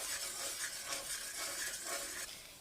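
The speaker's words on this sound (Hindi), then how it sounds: "ये सारे मसाले अब हम इसी में दही के साथ रोस्ट करेंगे।" Spices roast with yogurt in a pan for stew-style chicken karahi. The soft, fairly faint sizzle runs with light stirring scrapes throughout.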